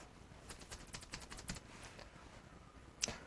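A PIN code is tapped out on a computer keyboard as a quick, faint run of light key clicks, then a brief pause and one firmer final keystroke, with no voices.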